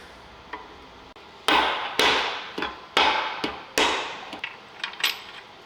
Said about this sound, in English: I'm gonna try smack it down with a rubber hammer.